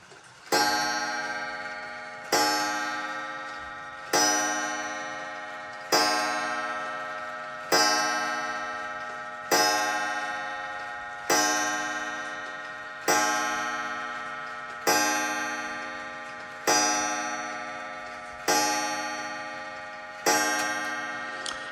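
A Cassell clock strikes a series of evenly spaced, bright metallic chimes about every two seconds, each ringing out and decaying before the next, loud and close with no voices.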